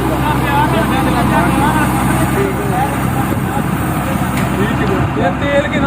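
A new combine harvester made in Holland runs with a steady, loud, close mechanical roar that never lets up, while people talk over it.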